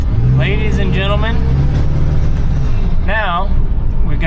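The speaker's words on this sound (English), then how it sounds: "now we've got this truck running" A cheap, problem-ridden Ford F350 pickup truck runs while driving, its engine a constant low drone beneath someone talking.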